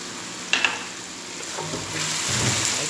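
Chicken seasoned with cumin and pepper sizzles in a pan, with a steady moderate frying hiss and a few light clinks of stirring.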